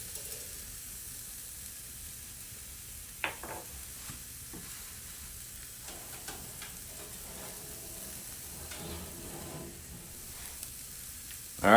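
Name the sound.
steak sizzling on fireplace grill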